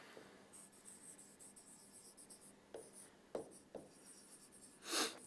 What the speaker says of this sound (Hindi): तब तक मैं एग्जाम्पल लिखता हूं।